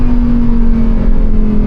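Loud, steady drone of the 5.2-litre naturally aspirated V10 of a Lamborghini Huracan Performante, heard from inside on a drive, holding a constant engine tone with no talk.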